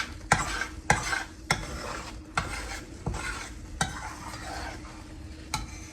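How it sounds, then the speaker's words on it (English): A spoon stirs eggs cooking in a pan, scraping the bottom in regular strokes about every half second over a steady, close sizzle, with no talking. "when you're stirring, you want to stir from the bottom"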